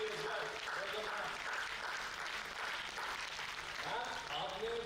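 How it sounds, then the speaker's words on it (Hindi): Children clap together at an anniversary celebration, a steady, fairly soft patter of applause that continues throughout from a crowd a short distance away. "आपने खड़े होकर पीछे देखा सिर्फ बच्चे ताली बजा रहे हैं बड़े ताली नहीं बजा रहे"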